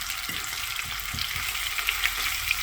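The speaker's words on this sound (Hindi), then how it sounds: "फ्राई करेंगे हाई फ्लेम पे ताकि क्रिस्पी हो जाए" Chicken legs fry over a high flame in hot oil, a steady crackling sizzle with occasional sharper pops, close and continuous.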